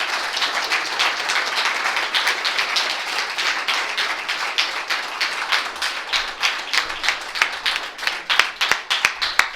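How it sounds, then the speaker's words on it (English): An audience gives a speaker a round of applause, a full burst of clapping that thins out into scattered, distinct individual claps over about ten seconds. "let's give Rick another round of applause"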